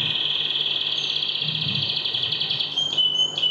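Birds chirp during a recital performance, a steady high, thin trilling whistle held close and clear, with a few brief shifting calls near the end.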